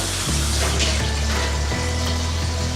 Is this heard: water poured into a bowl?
yes